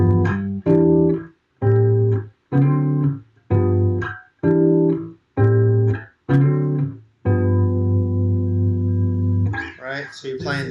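Bass guitar playing a 1-6-2-5 turnaround in G in a jazz blues lesson, heard as a series of distinct plucked notes in a steady pulse, ending on a long sustained tone, then a voice briefly starts talking.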